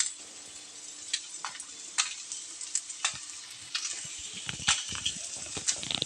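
Ten dried red chillies frying in hot oil in a pan, a steady bright sizzle with crackling pops and occasional scraping, close and alone with no talk.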